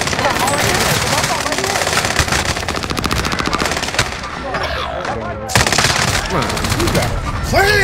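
Rapid automatic gunfire from a first-person shooter game rattles in sustained bursts with brief gaps, loud and close, while a player talks over it.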